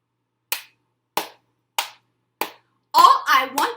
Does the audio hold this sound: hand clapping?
yes